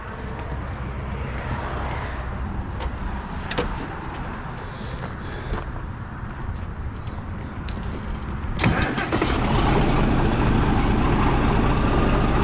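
Minneapolis Moline M670 Super diesel tractor engine cranking and catching, a steady low rumble that swells louder partway through and settles into a continuous idle, heard close.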